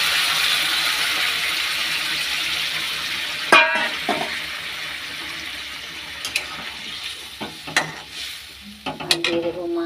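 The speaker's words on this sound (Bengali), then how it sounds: "এই যে গরম জল দিয়ে দিচ্ছি।" Hot water goes into a pan of frying spices and oil for a Bengali fish curry, first a strong hiss and sizzle that fades into gentler bubbling, punctuated by a few clinks and stirring knocks.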